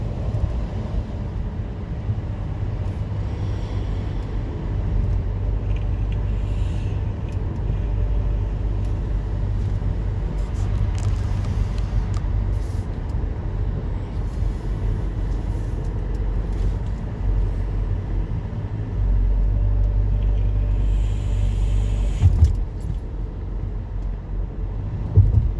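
Busy road traffic near a station, with a low continuous engine rumble from cars and buses passing, steady and fairly close, with a louder vehicle swelling briefly near the end.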